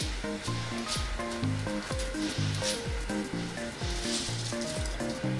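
Poha frying in hot oil with turmeric makes a steady, close sizzle under background music.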